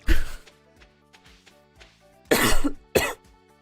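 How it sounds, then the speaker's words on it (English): A person coughs a few times in quick, sharp bursts, close to the microphone, with quiet pauses in between. "Excuse my cough there."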